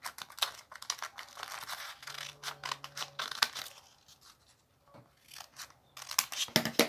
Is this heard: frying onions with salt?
no